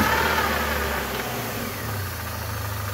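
A Mini One 1.6 16-valve engine runs steadily at close range, its hum settling to a lower idle tone as reverse gear is selected, with no talking.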